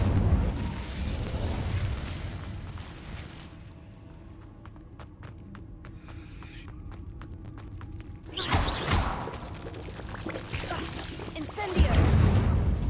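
The Incendio fire spell being cast in the video game Hogwarts Legacy, a sudden whooshing burst of flame flaring loudly, with a further fiery surge near the end and quieter footsteps and ambience in between.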